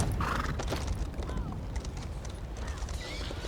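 A horse galloping in the video game Elder Scrolls Online, with quick rhythmic hoofbeats and a faint whinny over a busy game soundscape.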